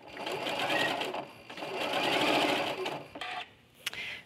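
A sewing machine runs close and clear, stitching through quilt fabric in two sustained bursts with a brief pause between, followed by a few short mechanical clicks; faint voice in the background.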